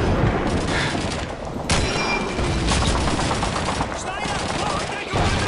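Rapid bursts of M1 Garand rifle gunfire in a Call of Duty World War II shooter, loud sharp shots cracking repeatedly with a player talking over the action.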